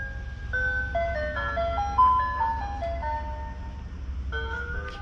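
An ice cream truck plays its jingly melody outdoors in a neighborhood, a bright music-box tune heard from moderate distance over a low steady rumble.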